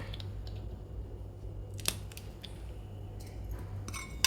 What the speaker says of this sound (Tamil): பச்சை மிளகா இதை கட் பண்ணி போட்டுக்கிறேன்